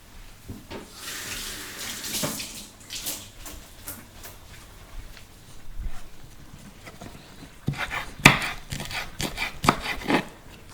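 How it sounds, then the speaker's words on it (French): Fresh herbs are rinsed under a running kitchen tap, with splashing water, soft rustling and patting, and a few sharp knocks and clatters of produce and utensils near the end, close and quiet, no speech. "d'abord on va rincer."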